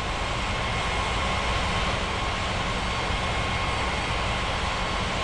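Airliner engine roar in an airport tower-control game, a steady loud broadband rumble and whine filling the whole span without letup, no talk over it.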